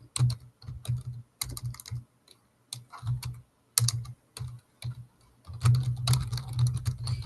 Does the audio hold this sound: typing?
yes